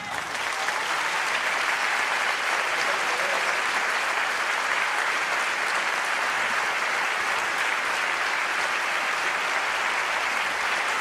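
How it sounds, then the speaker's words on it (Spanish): A theatre audience at a live tango concert breaks into loud, sustained applause to welcome a singer, a dense, even roar of clapping that holds steady throughout with no voices on top. "vamos a recibir con un fuerte aplauso"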